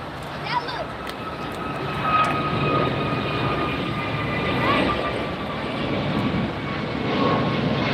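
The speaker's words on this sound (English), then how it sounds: "Virgin Atlantic taxiing" A Virgin Atlantic airliner taxis at LAX airport, its engines giving a steady whining hum with a low rumble that swells and eases slightly, moderately close, with faint voices underneath.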